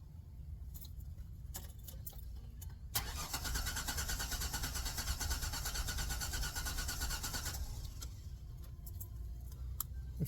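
A Ford Sport Trac with a no-start fault cranks for several seconds, a loud even churning starter whir rising abruptly and then cutting off, with key clicks and light jingles before and after.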